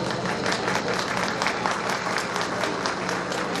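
Steady, dense clapping from an audience at a live makeup artist demonstration, loud and sustained throughout with no talking over it.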